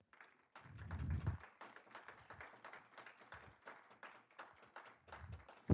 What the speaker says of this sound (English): clap it up for the sponsors